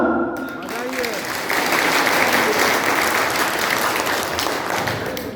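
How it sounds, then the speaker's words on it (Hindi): Audience applause at a Bihar fair price dealers association gathering in Madhepura, a dense, steady wash of many hands clapping that swells after a brief start and holds loud throughout, with a voice briefly heard near the beginning. "तालियां"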